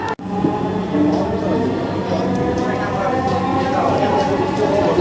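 A Dhaka metro rail train running between stations toward Agargaon, heard from inside the car as a steady rumbling ride noise throughout, with passengers talking over it.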